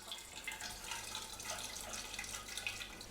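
Liquid wort poured from a container into a yeast starter vessel during home brewing, a continuous soft splashing trickle, fairly faint and steady with no talk.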